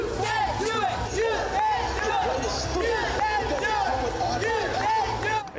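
Marathon spectators along the course cheering runners on, with overlapping shouts and chanted encouragement rising and falling in a continuous dense crowd din, voices close and loud throughout.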